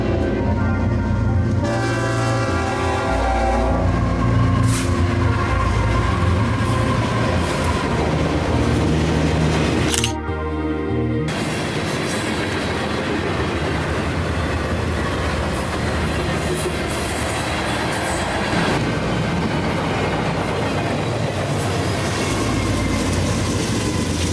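A loud freight train roars past close by, with rumbling wheels, clattering railcars and a blaring horn early on, continuing steadily throughout.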